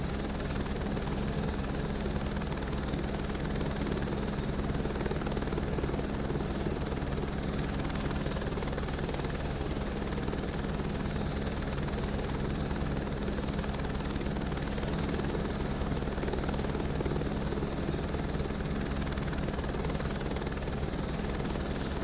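A helicopter in Microsoft Flight Simulator 2024 taxis toward a helipad, its rotor and turbine making a steady, loud, unbroken drone with a constant hum that stays even throughout, with no talk.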